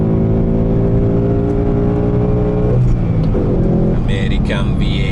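A Ford Mustang GT with a 5.0 V8 revs hard toward about 5,000 RPM, a loud rising engine roar with whining harmonics that climb and then shift as the revs change.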